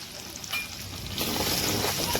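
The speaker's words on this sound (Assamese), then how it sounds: "পিঁয়াজখিনিও ভালদৰে ভাজি ল'ব লাগিব" Chopped onion frying in a pan, a soft hiss near at hand that swells into a louder, fuller sizzle partway through, with faint stirring.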